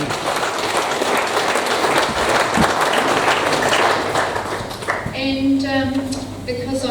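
Sustained applause from an audience at a memorial service, steady and dense throughout, fading as music begins near the end.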